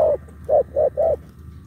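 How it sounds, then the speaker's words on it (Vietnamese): A pair of spotted or collared doves coo close by: one call, then a rhythmic run of three deep, rounded hoots in quick succession against quiet outdoor background. "hai con này nó gù khủng khiếp"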